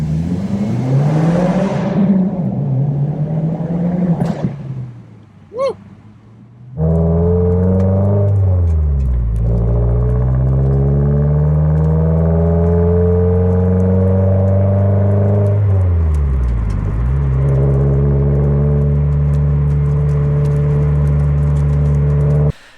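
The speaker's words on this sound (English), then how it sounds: "So exhaust really wakes up the car, makes it sound awesome." A new Subaru WRX with an aftermarket axle-back exhaust, loud and close, dips to a brief quiet, then settles into a throaty idle and swells through several deep revs that rise and fall.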